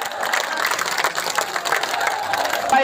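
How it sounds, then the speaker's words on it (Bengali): Outdoor crowd at a political rally clapping to welcome an arriving procession, a dense, fairly loud wash of applause with a faint murmur of voices underneath. "আমরা করতালি দিয়ে তাদেরকে স্বাগত জানাই।"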